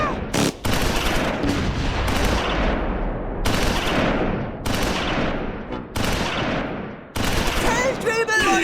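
Machine gun fire rattles in the WWII strategy game Close Combat 4, Battle of the Bulge at Clerf, with repeated loud bursts separated by brief gaps. A narrator speaks over part of it.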